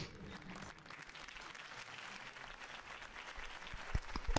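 Crowd applause following a campaign speech, a fairly faint wash of many clapping hands that holds steady, then a few louder, closer claps near the end.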